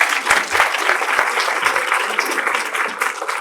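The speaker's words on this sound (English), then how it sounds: "Let's give them all another round of applause." A humanitarian leadership conference audience claps for panelists and a moderator, a full round of applause that swells and holds steady, fairly close and loud.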